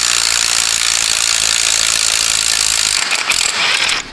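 A small 12-volt impact gun drives a bolt with a steady loud rapid hammering rattle up close, then stops with a few short bursts at the end.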